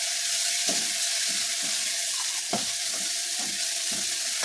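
Chopped onion frying in a pan for potato bhaji, a steady close sizzle with soft stirring clinks and scrapes at intervals, no voices.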